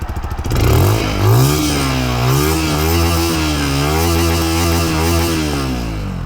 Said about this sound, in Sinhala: අපි නිවුල් කරන් බලමු එක්සෝස්ට් නෝට් එක කොයි වගේද කියලා